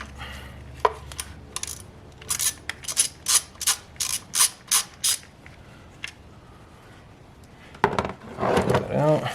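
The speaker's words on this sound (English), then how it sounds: "Okay, I'm gonna undo this bolt here." A ratchet with a 10 mm deep socket working a bolt loose on a Lexus CT200h during a head gasket job, giving a row of about seven sharp, evenly spaced clicking strokes up close, with a brief clatter and talk near the end.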